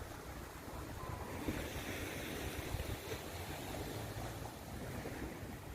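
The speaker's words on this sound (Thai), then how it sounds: "ทะเลขึ้นเสียงดังดีเนาะ" Steady rush of sea waves washing in continuously at a beach, with wind noise buffeting the microphone; no voices.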